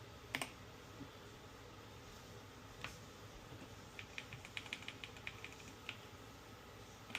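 Keys clack on a SteelSeries Apex Pro keyboard, faint and close by, with scattered presses followed by a quicker run of taps toward the end.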